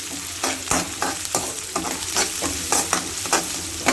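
Onions frying with dry chili powder in a pan for vermicelli upma, with a steady close sizzle broken by repeated scraping stirs at an uneven rhythm.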